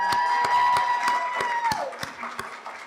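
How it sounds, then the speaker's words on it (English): Brief applause from a graduation hooding and pinning ceremony audience, a sparse patter of separate claps over a sustained musical tone that fades out. "I'd love to just give her a quick round of applause, which we've already done."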